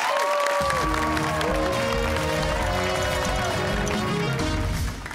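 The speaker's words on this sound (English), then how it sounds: "Let's have a round of applause for both teams." Studio audience applause for both high school teams, Buckingham Browne and Nichols and St. John's, at a televised quiz match, with brisk steady clapping heard over a sustained musical tone before it fades at the end.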